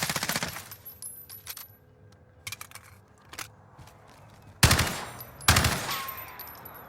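Bursts of AUG rifle fire in Warzone: a rapid automatic volley, scattered single shots, then two loud close-range bursts near the end, with no talk over them.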